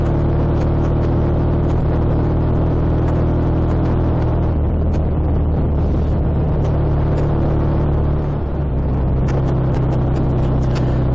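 A BSA A65 motorcycle engine running steadily while being ridden, a loud continuous rumbling drone close to the microphone with a slight shift in pitch partway through, heard alone with no talking.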